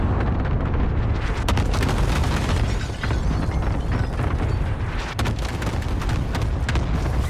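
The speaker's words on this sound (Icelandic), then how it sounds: "Allied cluster strike inbound." A dense, continuous roar of overlapping video game cluster airstrike explosions and booming blasts, loud and rumbling throughout with sharp bursts scattered across it.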